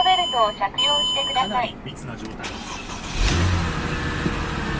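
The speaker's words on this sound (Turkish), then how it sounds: "Aracımız çalıştı." A used luxury car from a yard of Mercedes and BMW models (650i, S350, CLS500, E350) with 89,000 km on it cranks and starts, its engine catching into a steady idle after voices talk nearby.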